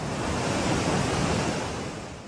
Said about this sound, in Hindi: लहरों का ये शोर डरा रहा है